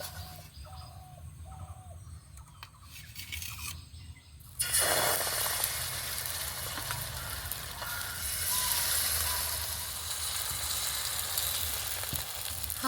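Egg paratha batter hitting a hot kadai: after a few quiet seconds of faint background noise, a sudden loud sizzle of frying starts and carries on steadily up close.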